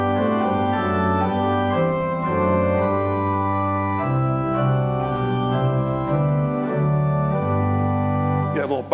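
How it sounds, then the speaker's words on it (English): A pipe organ plays a slow hymn with sustained chords over a low pedal bass line played by the feet, steady and full throughout with no voices, cutting off at the end. "But then I just play with my feet, but I also have the added benefit of adding a lower sound."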